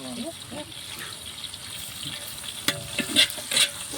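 Onions fry in a large pan for a seeraga samba biryani, with a steady sizzle and the scrape and splash of stirring while a voice talks over it.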